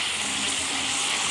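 Chopped chicharrón fries in oil in a pan, giving a steady, dense sizzle that stays even and close throughout with no talk over it.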